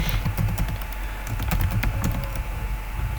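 Typing on a computer keyboard, with a steady run of quick, close key clicks at an even pace throughout, with no voices over it.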